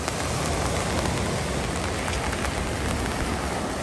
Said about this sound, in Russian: А сейчас у нас моросит слегка.